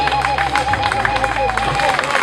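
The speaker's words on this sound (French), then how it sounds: "Si nous pouvons applaudir pour notre président, s'il vous plaît." An audience at a public gathering in Congo claps for the president. The clapping is dense and scattered, with crowd murmur beneath it and a voice speaking over it.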